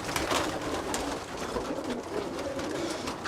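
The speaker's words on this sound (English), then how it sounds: "Here's another one of the birds I really like from Harry Paul" Pigeons in a loft coo softly and steadily under a dense wash of rustling and general noise, with no clear pauses across the stretch.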